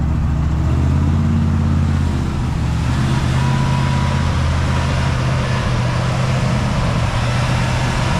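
A 1968 Ford F100 Ranger pickup that sat abandoned for years drives in low gear, its engine a loud, continuous, rough drone heard close up with road noise and no pause.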